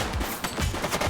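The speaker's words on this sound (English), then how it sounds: "He's shooting." Rapid bursts of gunfire from the video game The Precinct, several loud close shots cracking in an uneven rhythm over the short stretch.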